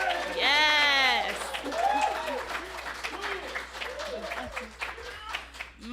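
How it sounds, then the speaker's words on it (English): Applause from an audience at a live farewell finale event, with clapping and crowd noise under loud amplified voices and cheering that stay prominent throughout. "Let's have a round of applause, please."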